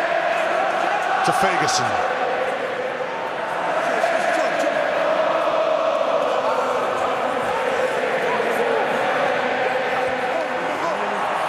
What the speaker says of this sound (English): The crowd in full voice.